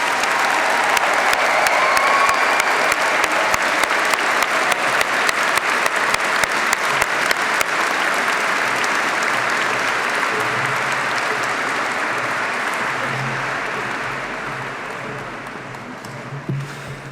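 Sustained audience applause at a graduation ceremony for newly qualified dentists, a dense even clapping that holds steady for most of its length before slowly thinning and fading toward the end.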